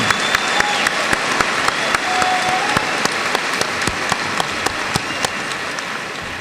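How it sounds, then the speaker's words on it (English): High school graduation crowd of 2002 gives a big round of applause, dense steady clapping with a few sharper close claps standing out, continuous throughout. "Let's give them a big round of applause."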